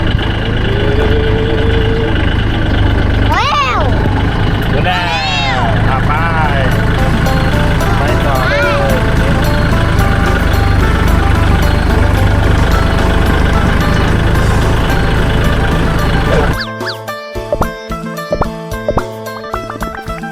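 A farm tractor engine rumbles steadily at close range on a first drive, with occasional vocal sounds over it, before the tone shifts near the end.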